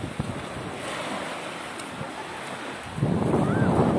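Waves washing onto the shore of Lake Issyk-Kul after rain, a steady rushing surf with wind buffeting the microphone, swelling louder near the end as a larger wave breaks close by.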